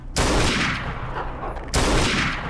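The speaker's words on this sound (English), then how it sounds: "Let me shoot again." Gunshots in the video game Garry's Mod: two loud, broadband bursts, one near the start and another about a second and a half later, each trailing off into a long noisy decay.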